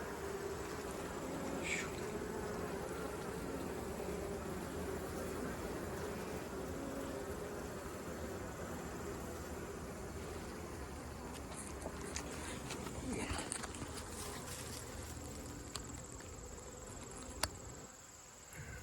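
Honey bees buzz around an opened hive outdoors, a dense, steady hum of many insects filling the whole stretch at moderate level, with a few brief knocks near the end.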